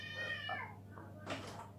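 Cat meowing indoors, one drawn-out close meow that fades, followed by a softer short second call, with faint background sound.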